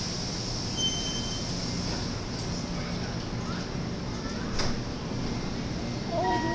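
Train at Schiphol Airport railway station, Amsterdam, with VIRM-4 and mDDM trains: a steady, moderately loud rumble and hiss of a train on the platform with faint squeals and clunks, and announcements heard over it.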